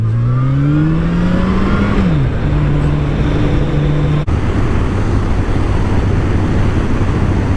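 A Yamaha FJR1300 touring motorcycle engine drones while riding, its pitch climbing through a gear then dropping and settling into a steady cruise, with loud wind rush over the helmet and no talk.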